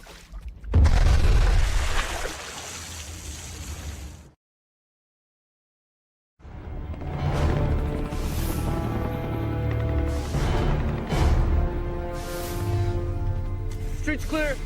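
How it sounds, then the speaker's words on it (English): A grenade dropped into a pool goes off as a deep, muffled boom with a rumbling wash of water, heard from a played video, followed by a gap of silence and then voices talking over background noise. "Drop a grenade in that pool."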